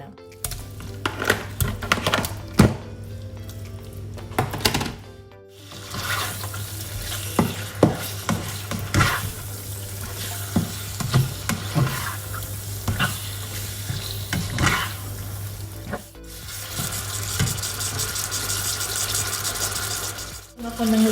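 Butter melts and fries in oil in a pan while making creamy pasta with chicken, a continuous sizzle broken by repeated scrapes and clinks of stirring, with someone talking intermittently over it.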